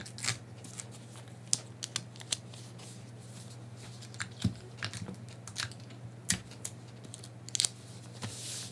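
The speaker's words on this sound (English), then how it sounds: "So now I'm just going to tape this" Tape being pulled and pressed onto a shirt pattern during a fitting adjustment: faint, scattered crinkles and short ripping snaps sound over a steady low hum.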